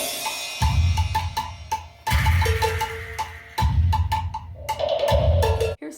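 Several percussion instruments, including goat's toenail shakers, played together in a steady marching pulse, with repeated loud low thumps joined by rattling and clacking, in four bursts separated by short gaps.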